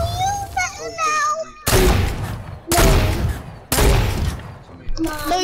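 Loud bursts of gunfire from the video game Fortnite come in three or four sharp volleys, each lasting under a second, with excited players talking between the shots.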